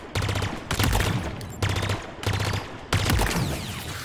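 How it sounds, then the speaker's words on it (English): A pulse carbine in Halo Infinite fires in four sharp, closely spaced bursts, each a rapid cluster of loud energy shots with brief gaps between. "I'm liking this pulse carbine"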